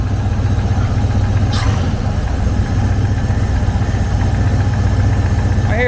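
An old abandoned dump truck engine runs steadily up close, a continuous low idle with a faint knocking beat woven through it and no break from start to finish.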